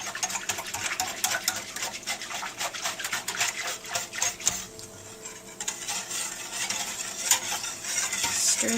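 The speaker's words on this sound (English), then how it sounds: "Stir that sugar and spices in." Sugar and spices being stirred into apple pie filling in a pot, an irregular scraping and clinking of utensil against the pan, moderately close and continuous with no voices.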